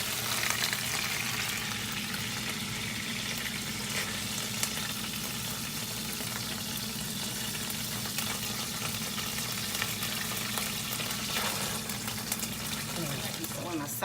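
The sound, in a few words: hamburgers frying in a frying pan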